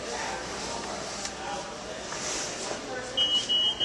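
Patient exit alarm on a hospital bed, a rapid run of electronic beeps near the end over steady background noise and possible talk.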